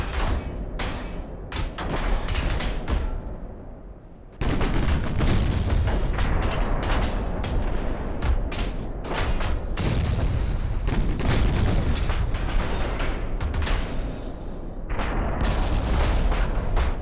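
Heavy booms roll continuously from 8-inch naval guns firing high-explosive shells in a Dreadnoughts-era naval battle game. Repeated deep blasts overlap into a loud, dense barrage, with one brief lull early on.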